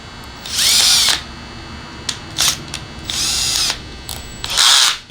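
A power drill fitted with a tap cuts threads into an explosion-proof security camera housing, whirring in four separate bursts of a second or so each, with brief clicks between them.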